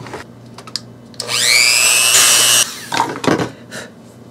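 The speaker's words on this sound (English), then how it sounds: "I'm going to be drilling a hole right in the middle" A power drill bores a hole through a painted frame, whining loudly for over a second in one steady burst, then stopping, with a few brief knocks and handling sounds after.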